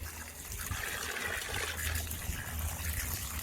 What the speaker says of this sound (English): We gotta fill it for them to have water.